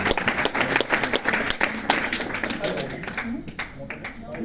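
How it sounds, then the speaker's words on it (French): Fans applauding the artist at a Fnac meet-and-greet for his album, brisk crowd clapping mixed with voices talking over it throughout. "Vous pouvez l'applaudir une nouvelle fois."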